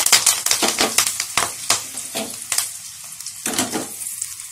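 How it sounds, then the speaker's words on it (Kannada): Mustard seeds, hing and a dried red chilli crackle and sizzle in ghee over a low flame, with dense popping bursts that repeat and then ease off near the close. No one speaks. "ತುಪ್ಪ, ಸಾಸಿವೆ ಮತ್ತು ಹಿಂಗು, 1 ಒಣಮೆಣಸಿನ್ಕಾಯಿ. ಸ್ವಲ್ಪ ಲೋ ಫ್ಲೇಮ್ನಲ್ಲಿ ಇಟ್ಕೊಂಡೇ ಒಗ್ಗರಣೆ ಮಾಡ್ಕೊಳ್ಳಿ."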